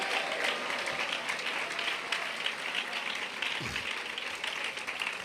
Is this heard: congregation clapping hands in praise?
yes